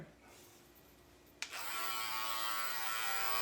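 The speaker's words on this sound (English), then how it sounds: "Turn my clipper on." An Andis Essential electric hair clipper clicks on and settles into a steady, close buzzing hum that keeps running after a quiet lead-in.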